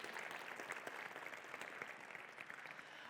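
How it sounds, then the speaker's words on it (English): Audience at a startup conference applauds the event organizers, a brief continuous spatter of many hands clapping, quite faint and distant throughout. "give a big applause to the organizers and the hardworking people who are making this time so great for us"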